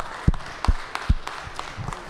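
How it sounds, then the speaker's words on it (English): Sparse, scattered claps in a Georgia state senate chamber as the pages are applauded, a few sharp individual hits spaced apart over a soft room background. "y'all give these pages a big round of applause"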